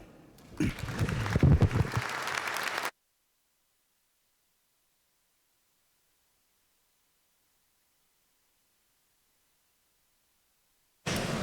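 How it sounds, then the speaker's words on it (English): Brief applause in a state legislature chamber for visiting middle school students in the gallery. It is a short burst of clapping lasting about two seconds, followed by near silence. "if we could all please give them a round of applause"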